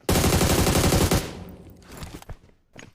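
Burst of rapid video game gunfire in a battle royale match, a dense volley for about a second, then scattered fainter shots and echoes trailing off.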